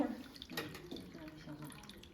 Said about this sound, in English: So we can show you how to pour water now.